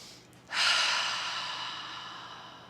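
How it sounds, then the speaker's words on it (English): A single slow, calm exhale during seated yoga, a soft breathy rush that begins after a short quiet moment and gradually fades, close and alone. "We're just breathing here."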